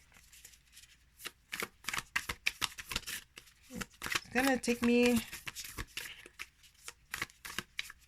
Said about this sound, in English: a few goes with this deck to figure out how to best shuffle it, especially overhand, so that I don't have clumps all the time